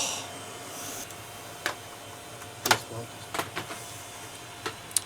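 A server power supply unit sliding into its bay and latching, a few sharp close clicks and clunks scattered over a quiet room hum.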